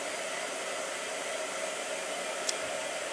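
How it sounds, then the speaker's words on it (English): A blow dryer runs close by, giving a steady, even whoosh of hot air with no breaks and no talking over it. "I was not prepared for a blow dryer."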